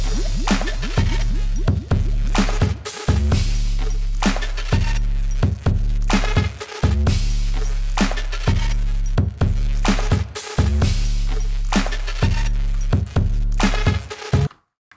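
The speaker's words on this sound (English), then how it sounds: "the really weird lead sound you hear in this" A weird synth lead built with a granulizer rides over a busy electronic track with a pounding low bass pulse and steady rhythmic hits, loud and continuous for about fifteen seconds before cutting off.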